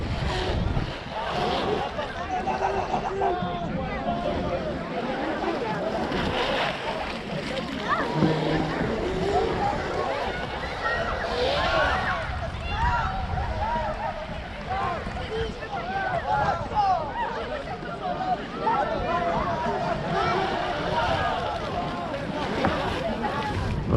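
A radio-controlled offshore boat runs on open water, its motor revving in short throttle bursts amid splashing and heavy wind buffeting, with people talking throughout.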